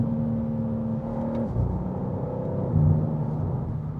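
A 2024 BMW M2 G87, rear-wheel drive, driving with a steady engine drone and rumble, the pitch dropping as it shifts and then settling into a low, even hum heard from inside the car.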